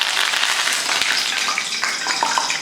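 Hot oil bubbles and crackles loudly and close up in a pan heated for frying paneer, a dense, continuous sizzle with a single dull knock partway through.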